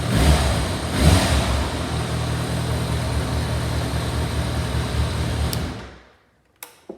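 A Kawasaki ZRX1100 motorcycle engine runs after a cold start, a close, steady rumbling idle with a slight rev near the start, then cuts out into silence broken by a couple of small clicks.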